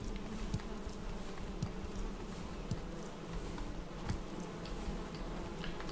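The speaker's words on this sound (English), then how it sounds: "Time for more bees." Bees buzz in the Valheim video game, a faint, steady droning hum with scattered soft ticks and clicks throughout, quiet and continuous with no talk over it.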